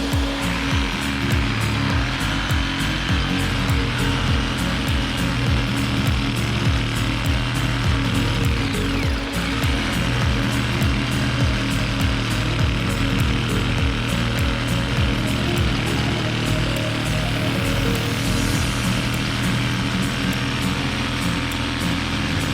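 A power tool cutting a transom hole in a 1982 Cobalt boat, a loud continuous motor whine with a droning, pulsing low rumble, steady and close for the whole stretch.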